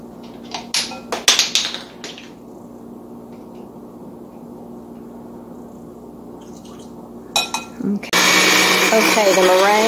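An electric mixer whips egg whites into meringue for pie, starting abruptly near the end as a loud steady whir after a stretch of clinks, knocks and quiet kitchen handling.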